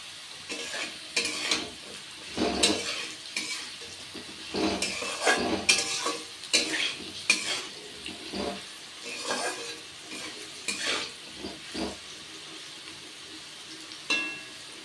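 Potatoes fry in hot oil in a pan for a kudri/kudar recipe, a steady crackling sizzle broken by repeated scraping stirs of a utensil against the pan, close and fairly loud throughout with no talking.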